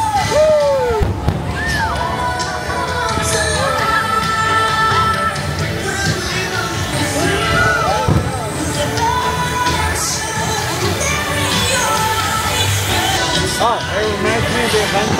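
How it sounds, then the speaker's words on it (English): Fireworks crackle and pop continuously amid a noisy crowd at Disney's Magic Kingdom, with whistles and yells mixed throughout the steady din. "Fireworks are going off during the ride."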